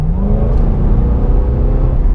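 Supercharged V8 in a Cadillac CTS-V pulling hard under acceleration, a loud, steady low engine roar with rising harmonic tones throughout, no voices.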